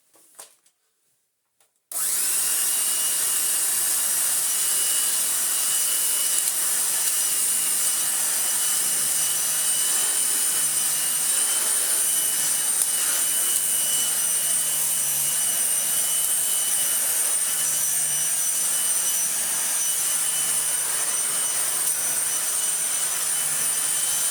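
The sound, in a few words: Dirt Devil Broomy vacuum cleaner running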